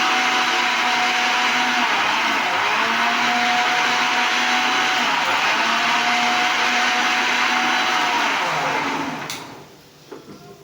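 A blender grinds garlic loudly and steadily for about nine seconds, its motor pitch shifting slightly, then cuts off and winds down into quiet room noise.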